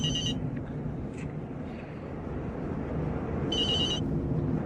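A cell phone rings inside a moving car in an audio drama, two short electronic trilling bursts at the start and near the end over a constant low road rumble.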